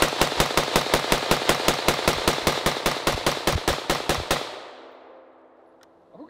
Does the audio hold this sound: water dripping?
no